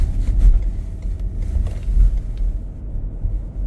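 A 2018 AWD twin-turbo EcoBoost police interceptor driving around the block, heard from inside as a steady low engine and road rumble that swells slightly and fades toward the end.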